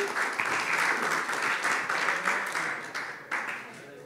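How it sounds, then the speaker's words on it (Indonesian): A church congregation at a Sunday service in Sidoarjo breaks into sustained applause, a dense crowd of clapping hands that swells and holds for about four seconds before tapering slightly. "Kasih tepuk tangan dulu."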